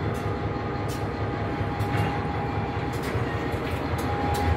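A train of loaded coal cars rolls steadily along railway tracks near an SD40-2 locomotive, a continuous loud rumble with rhythmic clatter and a thin high squeal, and no voices.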